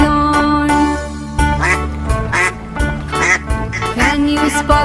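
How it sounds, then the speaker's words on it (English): A duck on a pond gives loud, repeated quacks in uneven bursts over a sustained musical background with tonal accompaniment. "Can you spot the duck in the pond waddling away and beyond?"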